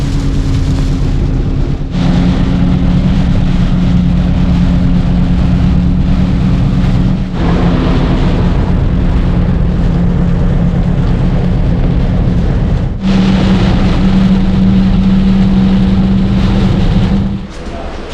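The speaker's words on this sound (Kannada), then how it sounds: "ಆದರೆ ಮಳೆ ಉಂಟಲ್ಲ ರಸ್ತೆಯಲ್ಲಿ, ತೋರಿಸ್ತೇನೆ ನಿಮಗೆ." Rain on the road heard from inside a moving car: a steady, loud hiss and rumble of wet tyres and cabin noise runs throughout, with a low engine drone and brief dips in level.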